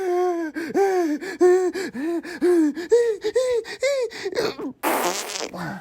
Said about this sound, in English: Is that the breathing from Rugrats movie